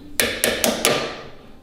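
Four sharp metallic hammer blows on a ratchet in quick, even succession, close and loud, with a ringing decay trailing after the last strike.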